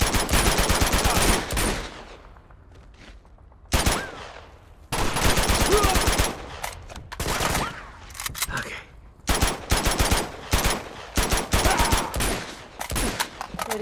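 Gunfire in the video game Uncharted: Among Thieves, with loud, close bursts of rapid automatic shots and single cracks in repeated volleys separated by brief lulls. Faint voices occasionally sit beneath the shooting.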